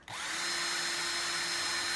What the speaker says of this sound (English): I'm really gentle. I'm letting the drill do all the work